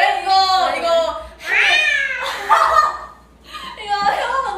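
A young woman mimics a cat's meow with her voice, giving several drawn-out, wavering cries in a row. They sound close and fairly loud, and other people talk between and around them.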